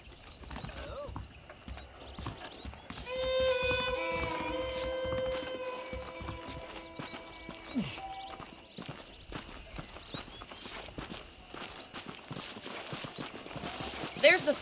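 Horse hooves clip-clop steadily at a walk in Red Dead Redemption, with a horse whinny, background music, and a voice speaking over it.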